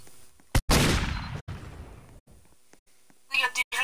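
A video game gunshot bursts out sharply near the start, followed by a decaying echo tail, with a second burst of gunfire-like noise near the end and brief gaps between.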